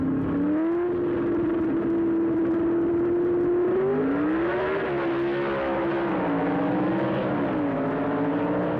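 A 1970s drag racing car sits on the line with its engine holding a steady drone, then revs and shifts pitch in surges as it launches, loud and close with no voices.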